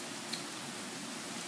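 Morning thunderstorm rain falls steadily, a faint even hiss of drops with one small tap standing out, with no voices over it.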